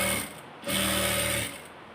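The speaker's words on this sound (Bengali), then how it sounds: "এই যে এখানটাতে একটা সিলাই দিয়ে দিব" Sewing machine runs in two short steady bursts while stitching a blouse, with a brief pause between them, loud and close with a mechanical hum.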